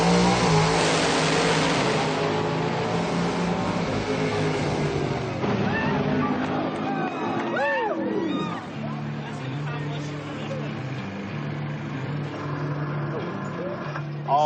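A turbocharged drag race car revs hard at a high-altitude raceway where thin air starves the engine. Loud, sustained engine roar with rising and falling pitch sweeps and a pass-by midway, over distant crowd murmur.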